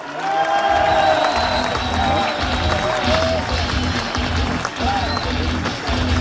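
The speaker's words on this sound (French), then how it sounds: "Et les applaudissements du public" A public crowd applauds and cheers skipper Charlotte Yvain at the Solitaire du Figaro 2025 weigh-in at Roscoff, Finistère, with steady loud clapping and a few whoops running under a voice over a sound system.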